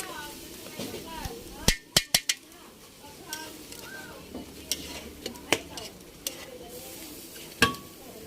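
Food sautéing in a pan with margarine at a home birthday meal: a soft sizzle sits under sharp utensil clacks and scrapes against the pan, while voices talk nearby.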